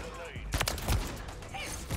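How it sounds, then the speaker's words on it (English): Gunfire in Modern Warfare 3, a few sharp bursts of shots close by and scattered over two seconds amid game noise. "I just got shot through the freaking bushes"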